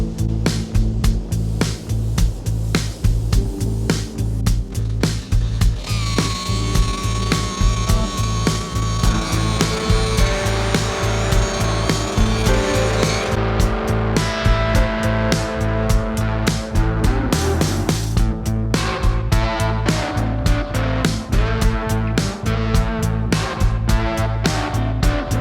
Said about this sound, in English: I got the first buffing application done